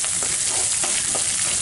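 Small onions and green chilies with peanuts sauté in a pan, producing a dense, continuous close sizzle with faint stirring scrapes and no speech.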